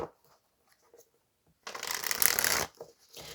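Tarot cards being shuffled and drawn in a burst of dense, close papery riffling that runs for about a second, after a few soft taps and rustles, then trails off into lighter card handling.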